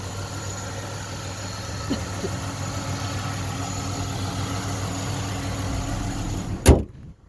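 A 2007 Chevy Impala engine idles steadily with a low, even hum, close by, ending in a sharp thump like a hood or door closing.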